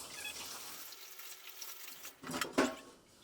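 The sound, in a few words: water poured into a beer brewing container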